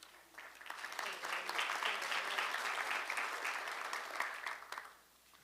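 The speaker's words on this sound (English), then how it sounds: "Please greet him with a big round of applause." An audience at a defense ministerial meeting applauds to greet the defense minister, sustained moderate clapping from a room of people that builds, holds steady for several seconds, then fades out.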